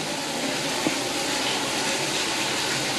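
Water rushes steadily through an aquarium water-change hose hooked to a kitchen sink tap, a loud, even hiss that stays constant throughout.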